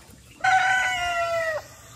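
Chickens on a home farm give a single drawn-out, throaty call lasting about a second, fairly close and loud above a quiet background, with no talking.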